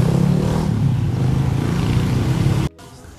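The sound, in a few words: washing machine spin dryer motor running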